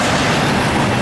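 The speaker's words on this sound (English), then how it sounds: "This train is coming out of Weaver Canyon." Freight train passing near Uintah, Utah, just out of Weaver Canyon, a loud, continuous rumble of rolling cars close by for a brief moment.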